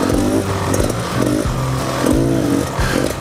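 A Beta Xtrainer 300 dirt bike being ridden off-road, its two-stroke engine loud and close, rising and falling in repeated revving surges over a clattering, rough-running drone.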